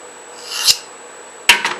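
A spokeshave blade is rubbed flat on a sharpening stone along its back edge, giving brief rasping strokes, one then a quick pair a moment later, close and crisp over a faint steady hiss.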